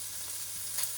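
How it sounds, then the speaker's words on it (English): Guanciale fries gently in a pan, giving a steady, close, even hiss of fat sizzling with no voices over it. "slowly to sizzle in the pan, slowly to drain the fat"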